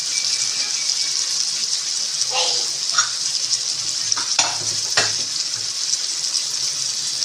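A steady sizzle of mutton biryani curry sautéing in a pan, with a few clinks and scrapes of stirring breaking through now and then.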